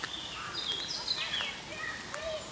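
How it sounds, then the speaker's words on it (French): Birds singing in the town of Tervuren, Belgium, a few faint, high chirps and short trills scattered over quiet outdoor background noise. "vous entendez les oiseaux?"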